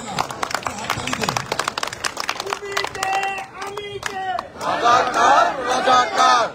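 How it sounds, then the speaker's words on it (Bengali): Audience at a gathering of Dhaka University students in New York breaks into brisk, uneven clapping for a couple of seconds. It gives way to loud voices and chanting from the crowd. "আমরা একটু হাততালি দেই, কিন্তু দিতে হবে না, হাততালি দেই।"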